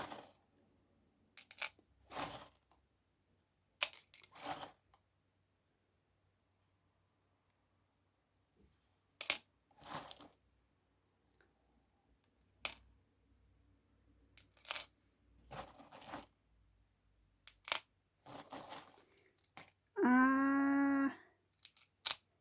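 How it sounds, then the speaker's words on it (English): Small metal charms pulled out one by one for a charm reading, scattered sharp clicks and clinks with long quiet gaps, ending in a brief tonal ring. "I'm just going to pull out some more charms"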